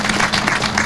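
Brief burst of steady applause from an audience gathered at an event for the I-95 Newark toll plaza, a dense even patter of many hands clapping nearby, with no voices over it.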